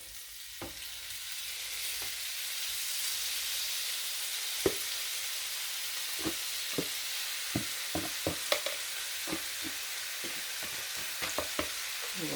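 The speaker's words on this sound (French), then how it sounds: "je vais mettre ça à cuire dans ma poêle" Onion, coriander, parsley, curry spices, salt and pepper fry gently in a pan for a stuffing, giving a steady soft sizzle broken by scattered sharp clicks and scrapes toward the end.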